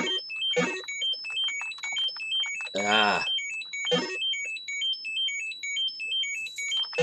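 Atari 2600 Krull game music on the crystal web stage, with chiming, tinkling crystal tones in a repeating pattern, broken by a short vocal exclamation and a sparkling whoosh.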